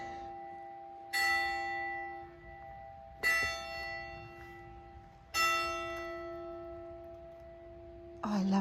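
Church bells at Lake Como strike three times with long ringing decays, close and clear over a steady tonal hum, with a fourth strike starting at the end.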